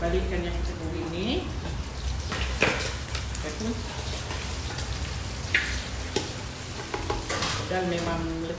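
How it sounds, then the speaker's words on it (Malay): Sambal pengantin ingredients are stirred and turned in a hot frying pan, giving a steady close sizzle with popping bursts and scraping strokes, while someone talks over the cooking. "Okey, kita balik-balikkan yang kita goreng ni."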